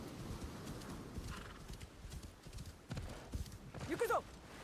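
A horse clip-clops and gallops in the video game Assassin's Creed Shadows, with a whinny near the end, heard fairly faintly under ambient game sound.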